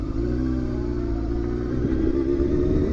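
A motorcycle engine idles below 3,000 revs with a lumpy, uneven rumble from running rough, holding steady throughout, close by and loud.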